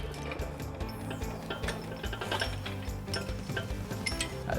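A U-Haul hitch jack rolls a heavy trailer hitch into place beneath a 2016 Dodge Durango, giving a steady, busy run of rumbling, clattering mechanical noise with ratchet-like clicks, close and continuous throughout.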